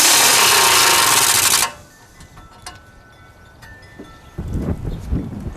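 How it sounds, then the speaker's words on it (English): A socket wrench tightens the tie rod end nut on a Ford F250 during ball joint repair, a loud sustained mechanical whir at first, then faint clicks and soft handling noises. "Now I'm going to tighten up the tie rod end with our 13/16 socket."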